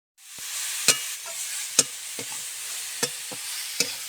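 Carrot and capsicum stir-fried in a pan, a continuous hiss of sizzling broken by periodic sharp scrapes and clacks of the spatula, close and fairly loud, no voices.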